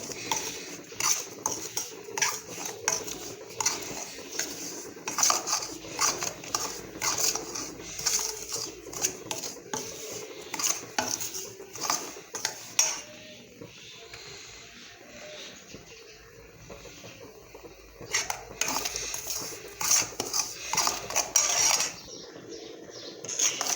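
Semolina roasts in a pan for rava laddu while a spoon stirs it, giving frequent light metallic scrapes and clinks against the pan, close and fairly quiet. The stirring thins out during quieter stretches.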